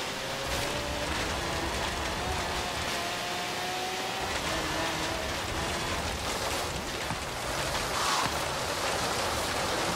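Steady rain hissing down in the Forza Horizon 3 racing game, a dense continuous wash of noise with a car's engine faintly humming beneath it for the whole stretch.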